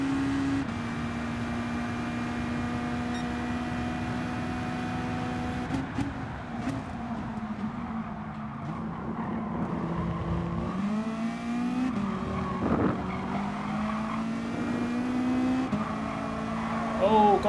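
Volkswagen race car engine in the Gran Turismo Sport video game, a sustained loud drone with rising and falling revs through gear changes, joined by other cars in close racing traffic.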